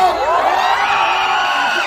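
A dense crowd at a grand political rally in Pampanga roars and shouts continuously, a loud massed sound of yelling voices with no break.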